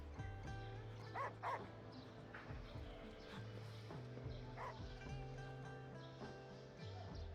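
A dog in the game Wuthering Waves gives a series of short yips and barks at intervals, fairly close, mixed with soft whimpers over a faint musical background.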